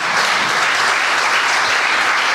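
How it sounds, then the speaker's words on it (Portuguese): A church congregation claps together in a dense, steady round of applause that holds at full strength for the whole moment. "Por favor, mais uma salva de palmas para Jesus."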